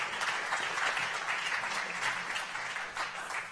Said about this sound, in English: Let's give a round of applause for Elias.